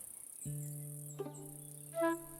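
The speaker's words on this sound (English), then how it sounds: "I like all the cricket noises and the birds and everything." Steady insect-like chirping tone from the game Tiny Glade, a soft sustained buzz with a brief chirp partway and a brighter trill near the end, alone with no talk.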